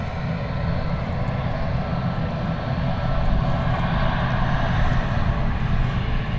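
An Icelandair Boeing 737 MAX airliner taxis at an airport, its jet engines producing a steady, loud, broadband roar and whine that holds nearly constant with a slight swell.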